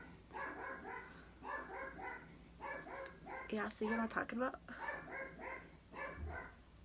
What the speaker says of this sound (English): That dog does not stop.